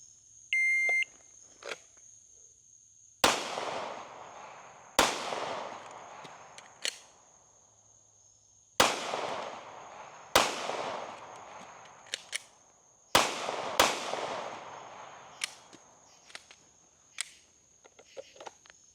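Pistol shots ring out in a timed shooting drill with a combat reload, fired in quick pairs and short bursts as sharp, loud cracks. A steady electronic timer tone runs through the start, and there is no talk.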